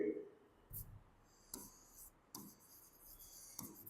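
A pen or marker scratches out a journal entry during an accounting lesson, producing a few brief, faint strokes and taps separated by quiet pauses.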